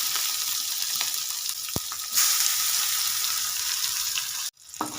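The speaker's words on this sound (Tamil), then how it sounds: "அடுத்து பூண்டு தட்டி வச்ச பூண்டு உள்ள போட்டுருவோம்" Crushed garlic, with green and dried chillies, sautés in hot oil with a steady close sizzle. The hiss swells partway through, a sharp clink sounds, and it cuts out briefly near the end.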